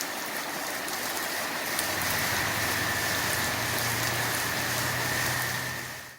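Steady rain hisses continuously, a dense even patter on surfaces with a faint low hum underneath, fading out at the very end.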